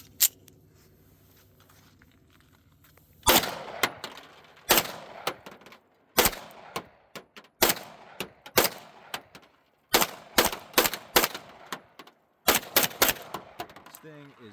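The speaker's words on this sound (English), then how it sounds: "So let's just do some more shooting for you guys." A Springfield Prodigy pistol fires in quick strings of shots, loud and close, each burst followed by a short pause before the next volley.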